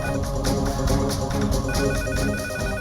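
Electronic telephone ringtone trilling steadily at night in a Hindi TV drama home scene, a repeating bright ringing pattern that stays loud and continuous throughout without talk.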